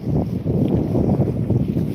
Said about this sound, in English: a windy night.